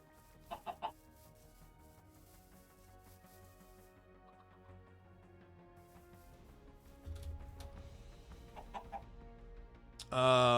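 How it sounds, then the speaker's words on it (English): Clucking chickens in modded Minecraft, brief bursts early and again near the end, with a louder sudden noise closing it out; no talk. "Oh, now he's a baby chicken."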